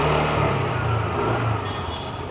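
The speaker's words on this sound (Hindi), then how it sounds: "इंजन साउंड एग्जॉस्ट नोट सुनो," TVS Jupiter 125 scooter idling nearby, a steady low engine hum and exhaust burble held at even loudness for a couple of seconds, with no one talking.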